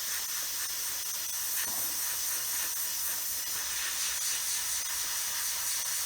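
Airbrush hiss spraying paint onto a Tamiya 1/48 F4F-4 Wildcat model, a steady close high-pitched rush of air running unbroken and without pauses throughout.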